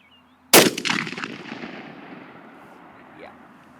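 A single loud shotgun blast fired at a target on a range, with a sharp crack followed by a long, fading echo that rolls away over several seconds. Nobody is talking.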